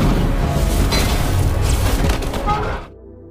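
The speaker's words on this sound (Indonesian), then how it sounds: "sebuah ledakan besar yang diakibatkan oleh pertempuran di bawah terjadi" A big explosion from a battle below a building in an action film: a loud, deep, rumbling blast that roars steadily for nearly three seconds and then cuts off abruptly.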